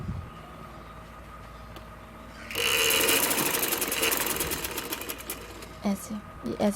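A sewing machine stitches the armhole of a small girl's sleeveless inner, starting after a quiet stretch with a loud, rapid mechanical rattle that runs for several seconds, with a person talking over it.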